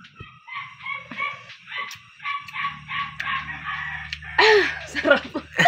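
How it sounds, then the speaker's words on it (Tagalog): A dog barks a few sharp, insistent times at moderate distance, the loudest outburst coming near the end, mixed in with people talking in a home kitchen. "Maingay yung aso."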